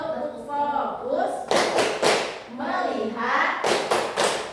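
A classroom clap game: children chant in rhythm, then clap their hands together in quick bursts of several sharp claps, twice over, loud and close.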